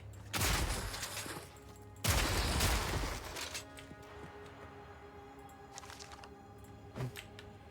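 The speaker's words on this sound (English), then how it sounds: "Grenades for everybody." Grenades burst in Path of Exile 2 in two heavy, loud blasts close together, each trailing off into rumble, followed by scattered lighter pops and impacts.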